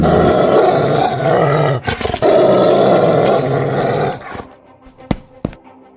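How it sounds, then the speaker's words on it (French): A deep, rumbling growl from a stray dog rolls on for several seconds, close and loud, then breaks into a few short sharp snarls and snaps. "Soudain, des grognements se font entendre"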